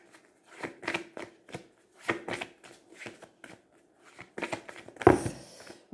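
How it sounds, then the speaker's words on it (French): A deck of cards is shuffled for a card reading, with soft, close riffling bursts in an irregular rhythm and a louder flurry near the end, heard alone without talk. "on va commencer à tirer les cartes"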